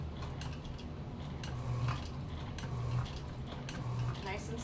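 A sewing machine stitches slowly across the corner of a tote bag, a soft steady mechanical whir with light periodic clicking and thumps, a person speaking over it.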